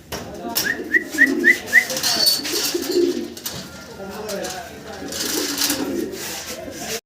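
A pair of short-face almond-necked pigeons with white heads and red eyes and beaks coo softly nearby. Someone talks over them throughout.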